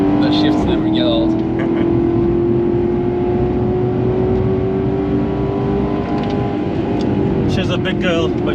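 Maserati GranTurismo MC Stradale engine heard from inside, a loud sustained drone that climbs steadily in pitch as it pulls through the gears, with people talking over it.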